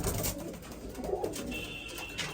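Pigeons coo nearby in soft, rolling, repeated calls, several overlapping over a constant low background hum, with no talk.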